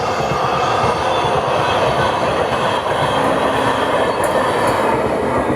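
The Visakhapatnam–Mumbai LTT SF Express rolls along in a steady, loud roar of rail noise heard from inside a coach, with faint wheel clatter throughout.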